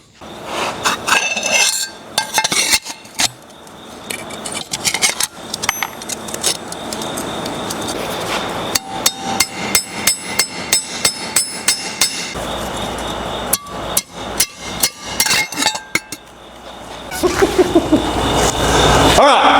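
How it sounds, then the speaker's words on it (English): Hammer blows ring out on a steel shovel head being forged, sharp metallic strikes coming in irregular bursts that build into rapid, loud series of close hits, with talk in between. "You don't have to smash it down in 1 or 2 hammer blows"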